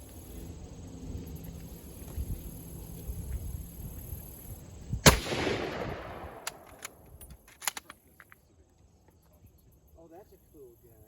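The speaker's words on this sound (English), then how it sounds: "now we're going to shoot the 1903 Springfield, or rifle, however you want to call it, 30-06" A single sharp, loud 1903 Springfield .30-06 rifle shot cracks at an outdoor range, followed by a decaying echo, scattered clicks and rustle, with speech and background noise around it.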